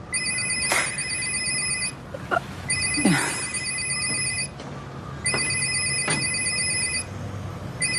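A telephone rings at a crime scene, repeated electronic ring bursts in a steady on-off pattern with faint rustling and movement noise underneath.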